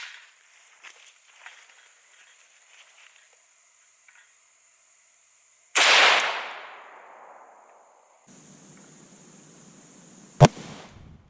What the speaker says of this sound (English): This is actually my first time ever shooting an incendiary round of any kind